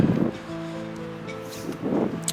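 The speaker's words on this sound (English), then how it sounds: "And it is very windy, and it's misty and foggy." Gusty wind buffets the microphone in low rumbling bursts, with a faint steady hum beneath and a hint of distant water, on a misty, foggy day in Nova Scotia.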